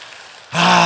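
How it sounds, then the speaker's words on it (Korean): A church congregation bursts into sustained applause for its assistant pastors, the clapping starting abruptly after a brief quiet moment and filling the room loudly. "우리 부목사님들, 우리 전사님 위해서 박수 좀 한번 쳐줘봐."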